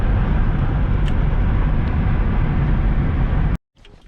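Steady broadband road and engine rumble from an Audi RS7 cruising on a road, loud and continuous inside the cabin, cutting off abruptly near the end into quiet.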